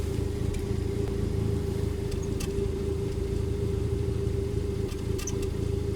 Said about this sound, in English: So that is a definite misfire.